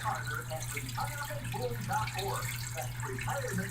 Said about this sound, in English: you just watch the water flow. The material is climbing over. It's the perfect water flow.